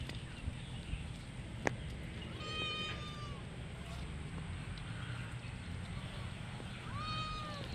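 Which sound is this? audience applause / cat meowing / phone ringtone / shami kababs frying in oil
cat meowing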